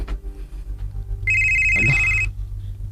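A mobile phone rings with an incoming call indoors, a bright electronic ringtone tone starting partway through and sounding steadily for about a second over low background hum.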